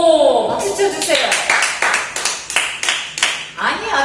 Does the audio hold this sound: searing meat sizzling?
no